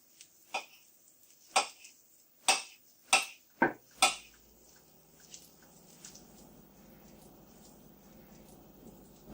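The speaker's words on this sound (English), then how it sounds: "We just sliced it" A knife cuts through a spinach omelet on a plate, six or so crisp clicks and taps against the dish over a few seconds, close and distinct, then quiet with faint handling.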